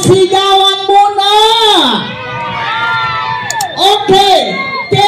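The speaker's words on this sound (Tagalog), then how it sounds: "Isang malakas na sigawan muna!" A crowd at a food stall opening in Calamba, Laguna shouts and cheers loudly in a sustained roar, with whoops and children's high voices rising and falling throughout.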